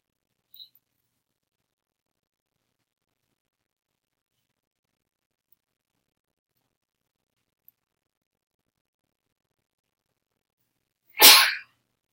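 A single sharp sneeze bursts out near the end of a long quiet stretch in a classroom, loud and close, after a few faint ticks.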